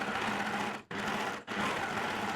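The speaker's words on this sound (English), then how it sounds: "I'm doing an overlock stitch" An overlocker runs steadily along a linen seam on wide-leg pants, a close, dense mechanical whir that stops twice for a split second before resuming.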